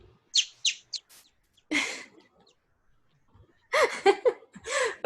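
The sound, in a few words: person imitating a bird sound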